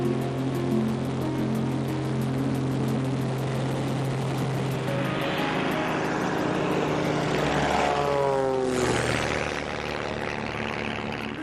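An air racer's propeller-driven plane flies past with a steady, loud engine drone and propeller buzz. The pitch sweeps downward near the end as the aircraft passes, and no one speaks.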